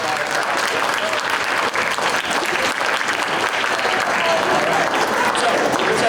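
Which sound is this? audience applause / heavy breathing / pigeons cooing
audience applause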